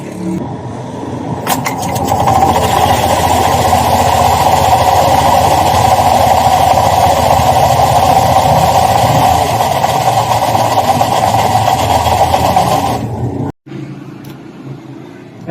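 A scooter engine starts and settles into a steady idle in a motorcycle repair shop after basic maintenance on its drive pulley, the idle running loud and continuous for several seconds before cutting off abruptly.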